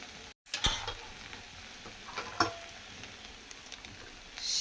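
Green chili paste stirred into hot oil in a pan, producing a faint, quiet sizzle with a few light scrapes and clicks from the spoon, no voices.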